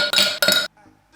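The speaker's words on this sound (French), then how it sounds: "On met quelques glaçons dans le verre." A few ice cubes dropped into a drinking glass for a cocktail: two quick bright clinks in succession, loud and close, then faint rattling as the cubes settle.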